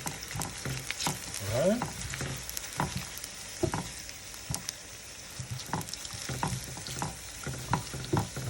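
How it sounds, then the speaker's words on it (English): Cream poured into a hot pan for fettuccine alfredo with shrimp hisses and sizzles steadily at close range, broken by scattered clicks and utensil taps, with a brief spoken remark. "now I'm adding the cream."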